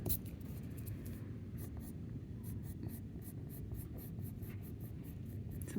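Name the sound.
pencil drawing and erasing on paper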